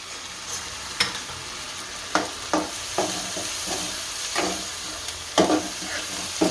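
Moong dal being stirred in a sizzling tempering of oil and asafoetida, a steady close frying hiss broken by several sharp scraping stir strokes at uneven intervals.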